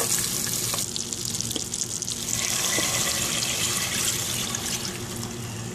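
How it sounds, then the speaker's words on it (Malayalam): Milk poured into a pan while making butterscotch pudding, a steady liquid rush with a soft sizzle running evenly throughout, close and continuous with no talking. "ഇനി നമുക്ക് ഇതിലേക്ക് പാലും മിൽക്ക് ചേർക്കാം"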